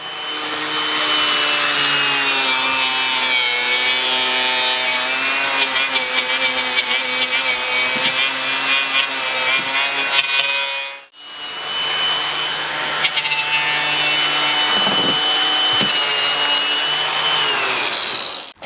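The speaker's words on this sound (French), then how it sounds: "pour enlever toutes les restants de colle avec la brosse sur une meuleuse" Angle grinder fitted with a brush scrubbing glue residue off fibreglass, from window removal on a converted bus; a loud, steady whine runs continuously, breaks off briefly midway, then resumes to the end.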